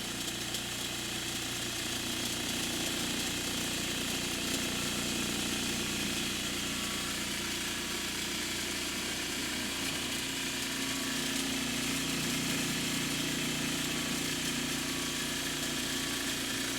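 A homemade tumbler churning fine sand media runs steadily, a constant mechanical whirring and grinding drone with a faint rattle, loud and unbroken throughout, with no voices.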